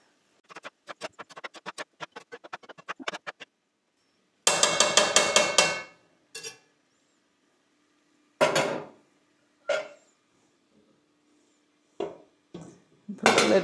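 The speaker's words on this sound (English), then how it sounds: "Then we'll just give this a good stir around." A spoon stirs moose stuffed pepper filling in a pot on a woodstove, giving a quick run of light clinks and scrapes followed by a few louder bangs and knocks spaced apart, close and with no talking.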